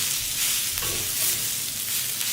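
Crushed cluster beans, garlic and green chilli with coriander, peanuts and sesame stir-fry in a pan, giving a soft, steady sizzle and faint stirring scrapes, close and alone.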